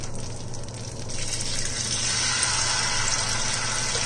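Vegan saltfish fritter batter goes into hot oil in a home kitchen, and a steady sizzling and bubbling of frying builds and holds close by.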